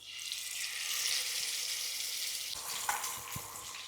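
Fish sizzling in hot oil in a pan, a steady soft crackling hiss that continues evenly throughout, with a faint bubbling shift near the end and no voices.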